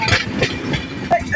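A train slowing on its rails makes rumbling wheel noise with uneven knocks and clatter, and voices can be heard talking briefly over it.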